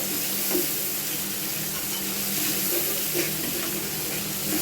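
Onions frying in oil for a Taki fish biran, a steady close sizzle with occasional faint stirring scrapes and no talking.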